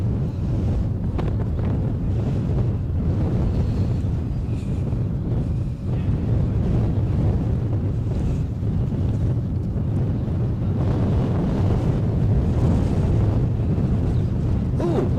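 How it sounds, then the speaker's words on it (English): Strong gusty wind roars across the microphone at a scenic Edinburgh plane-spotting spot, a loud, continuous low buffeting rumble that swells and surges throughout with no letup. "boy is it like being in a wind tunnel"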